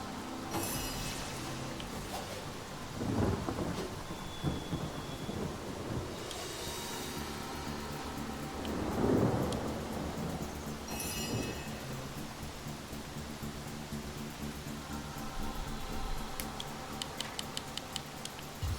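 Rain patters steadily in the video game Divinity Original Sin, with low rumbles of thunder rolling in several times and scattered clicks over the continuous wash.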